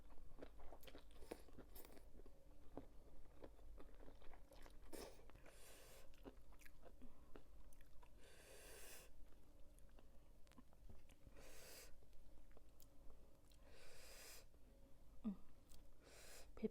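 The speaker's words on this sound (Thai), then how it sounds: "ช่วงหลังๆมากนี่ติดใจหมึกกรุบจ้ะกินดู" Someone eats crunchy spicy squid salad up close, with quiet, repeated crunching bites and chewing spread unevenly across the stretch and soft breathing between them.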